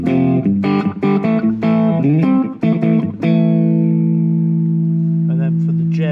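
Electric guitar notes played through a delay pedal on a live rock stage rig, sustained harmonic tones with repeating echoes trailing off, a busy phrase giving way to a long ringing held chord.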